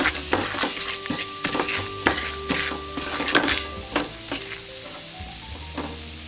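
Flour being toasted in a pan, stirred with repeated scraping strokes in an uneven rhythm over a low, steady sizzle, close and moderately loud.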